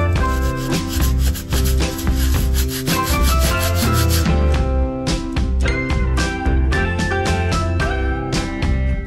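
Sandpaper rubbing over wall filler before repainting, a steady rasping of back-and-forth strokes, close and fairly loud, running under background music throughout.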